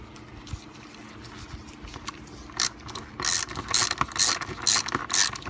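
Ratchet wrench clicking as bolts are tightened on a 2000-2008 Toyota Camry cooling fan assembly, quiet scattered clicks at first, then louder bursts of rapid ratcheting near the end, close by with no talk.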